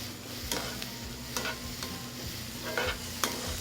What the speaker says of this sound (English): And just let it saute.